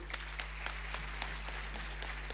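An audience claps for a young girl at a children's speech event, a faint, light patter of applause over a steady low hum, heard from a distance.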